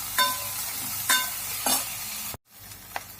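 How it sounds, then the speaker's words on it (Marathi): A spoon scrapes and stirs vegetables in a pan for white sauce pasta, with three sharp strokes at a steady, roughly half-second rhythm over a soft sizzle, then a brief silence and one lighter stroke. Close and fairly loud, with no talk. "चांगला हलवून घेऊया"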